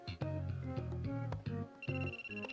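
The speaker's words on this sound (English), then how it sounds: "then someone's phone started ringing" A cell phone rings with a melodic ringtone, repeating bright tonal notes in a steady pattern, fairly clear and close, with no talking over it.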